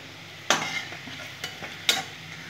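Something fries gently in a pan in a home kitchen. A soft, steady sizzle sits under two sharp utensil scrapes and a couple of lighter stirring knocks, quiet overall with no voices.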